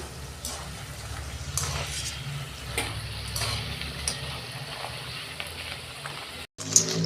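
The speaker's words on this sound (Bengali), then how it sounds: "আমি এইটা একটু লাল লাল করে ভাজবো।" Nimki, a crisp flour snack, deep-frying in hot oil gives a steady close sizzle with faint crackles, and the sound briefly cuts out near the end.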